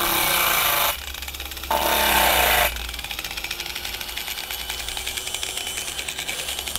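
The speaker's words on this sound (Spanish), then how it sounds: "Ahí está trabajando una moladora con solo 40 volts." An angle grinder running directly on 40-volt solar power without an inverter gives a steady, close grinding whine with a rough, buzzing texture, changing pitch slightly as the load shifts.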